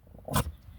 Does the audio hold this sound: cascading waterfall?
no